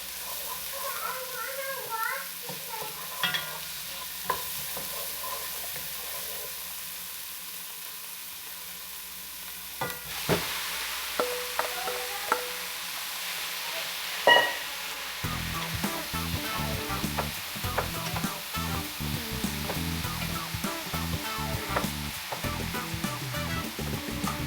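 Beef and pork giniling frying and being stirred in a pan, a steady low sizzle with scraping clatter that grows busier in the second half, while a child and an adult talk nearby and household sounds come and go.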